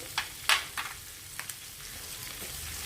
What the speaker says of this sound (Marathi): आणि आता परत थोडा मी गॅस लावते आणि त्याच्यात कढीपत्ता टाकते